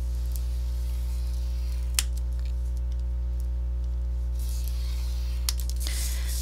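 A scoring tool drawing crease lines across paper for a pop-up photo album craft, heard as soft, scratchy scraping strokes with two brief sharp clicks, faint beneath a steady low electrical hum and with no talking.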